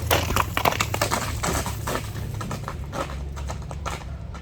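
A horse's hooves clip-clop steadily on the ground as it moves forward with a strong gait, the repeated hoof strikes close and moderately loud over constant background noise.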